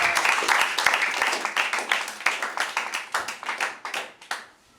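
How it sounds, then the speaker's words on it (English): An audience at a school debate in Lagos claps for the next speaker, dense applause that thins into separate claps and fades out near the end, with a few voices mixed in. "A round of applause for her."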